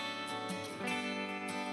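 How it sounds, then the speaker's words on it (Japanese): Clean electric guitar chords from a band recording of a song ring out steadily and evenly, a short bright strummed passage with no talking. "こういうクリーンのコードの音が入"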